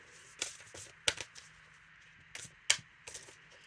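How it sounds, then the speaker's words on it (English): Tarot-style reading cards shuffled by hand, a quiet series of sharp riffling snaps and soft taps spaced irregularly over a few seconds, close up and faint, with no talking. "I'm just shuffling the deck."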